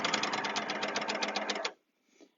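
An overlocker sewing machine stitching and trimming fabric runs in a fast, even mechanical chatter for under two seconds, then stops, leaving a faint brief rustle.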